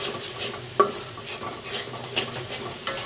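Radhuni mixed spice masala is stirred through in a hot pan for a roast, with soft sizzling under several light scrapes and one sharp clink of a spoon against the pan.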